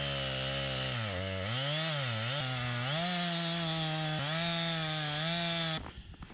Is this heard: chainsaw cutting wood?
yes